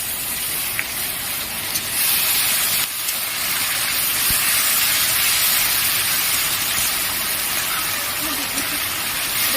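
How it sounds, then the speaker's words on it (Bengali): Loud, continuous hissing sizzle of ginger-garlic paste frying in hot oil, steady throughout with brief clinks from cooking. "এখন বেটে রাখা আদা রসুনটা আমি দিয়ে দেবো।"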